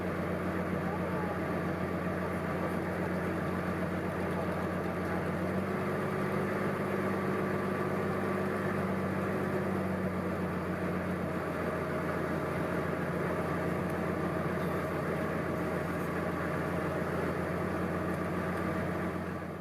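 A boat engine drones continuously at a steady idle-like pace on a Cambodian waterway past a floating village, a low vibrating hum with faint tonal whine, close and unchanging throughout.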